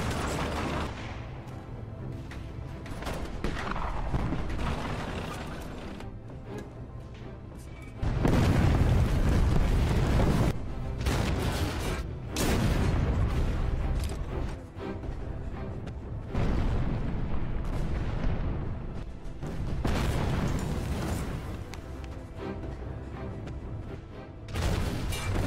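Artillery fire and explosions in a war film with Soviet troops fighting German tanks. Repeated deep booms and blasts roll through the clip over a constant battle rumble, with no voices.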